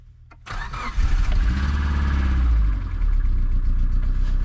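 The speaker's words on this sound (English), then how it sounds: "She's gonna fire up first try," A Subaru engine freshly installed in a car cranks briefly, then catches and fires up on the first try. It settles into a loud, steady idle with a slight rev and stays close for the rest of the clip.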